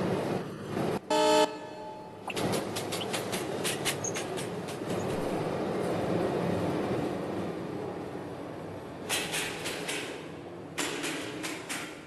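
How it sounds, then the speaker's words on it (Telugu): A Mumbai local EMU train in a mobile train game rumbles steadily along the tracks, while several sharp horn toots sound near the start and again toward the end; no voices are heard. "ట్రాక్స్ కూడా బాగానే వినిపిస్తుంది గైస్"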